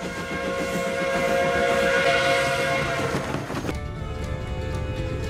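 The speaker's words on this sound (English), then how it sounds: "Oh, now there's a train!" A train in American Truck Simulator rumbles past with a long, steady horn blast over the clatter of its cars, loud and close, then the horn cuts off, leaving a lower rolling rumble.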